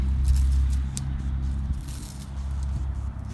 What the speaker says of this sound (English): Sorry about the loud truck going by.